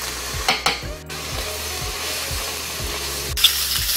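Minced garlic frying in a pan alongside porcini for a mushroom cream pasta: an even, close sizzle with a couple of sharp utensil clacks early on and gentle repeated stirring strokes.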